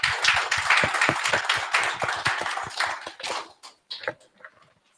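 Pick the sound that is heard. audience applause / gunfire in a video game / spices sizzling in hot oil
audience applause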